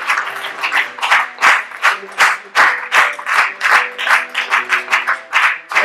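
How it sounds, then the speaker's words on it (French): A church congregation claps in steady rhythmic unison during worship, loud and close, with voices mixed in beneath the beat. "Applaudissons le nom du Seigneur."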